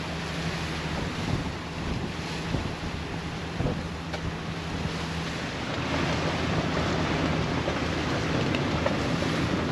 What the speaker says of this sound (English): Man, it is windy out here today.